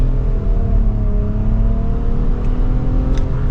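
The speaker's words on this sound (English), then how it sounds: "Setting off now in the Nissan Rogue." A 2024 Nissan Rogue SL with a 3-cylinder engine and CVT pulling away, giving a steady, loud low engine drone with a faint rising whine heard from inside the cabin.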